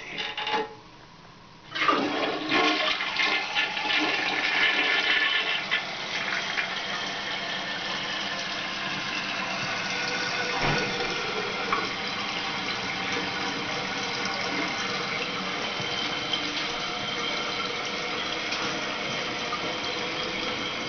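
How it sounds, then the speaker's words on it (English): A tank toilet with a Fluidmaster fill valve (restrictor removed) and a flapper without early closure is flushed: after a brief quiet, a loud rushing gush of water starts and continues as a steady draining and refilling wash. "and we'll flush it this way."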